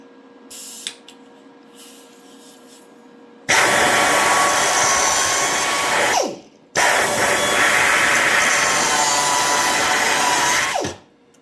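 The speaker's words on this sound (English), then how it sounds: "It's like a tornado in here when this grinder's going." An angle grinder cuts off a weld on a fabricated side scoop for a Dodge Superbee in a workshop, two loud sustained whining bursts of several seconds each, with a brief pause and spin-down between them.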